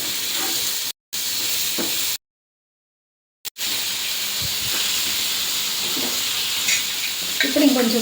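Fish frying in oil gives a steady, close hiss and sizzle, cut by two brief silences, with faint stirring scrapes toward the end.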